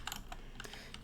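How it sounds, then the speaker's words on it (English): Quick, irregular keystrokes on a computer keyboard as a short command is typed, close and fairly crisp, with no voices. "we're going to type npx"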